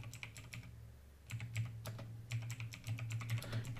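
Quiet clicking of fingers typing on a computer keyboard into a search box, a quick uneven run of keystrokes with brief pauses, close and alone with no talk.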